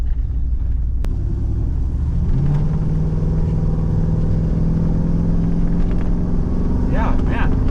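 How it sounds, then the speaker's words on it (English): Pontiac Grand Prix engine bogging while its transmission stays stuck in overdrive, a steady low rumble running throughout with a faint rising tone partway through, heard from inside the car. "Yeah, man, it's bogging big time. Still not in first. It's like stuck in overdrive or fourth or something."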